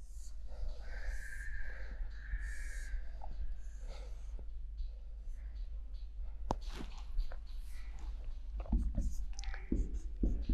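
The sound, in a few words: drawing a geometry diagram on paper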